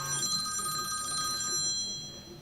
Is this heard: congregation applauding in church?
no